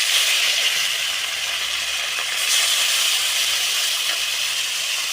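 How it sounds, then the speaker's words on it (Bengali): Moka fish fries lightly in hot oil with a loud, dense, continuous hiss that stays even throughout, with no voices. "প্রথম মকা মাছে হালকা করে ভেজে নেব।"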